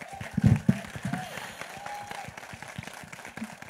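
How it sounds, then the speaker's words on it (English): Scattered clapping from the audience at a film trailer launch event, with a few loud claps early on that thin into light applause under murmuring voices. "One big, huge round of claps, please"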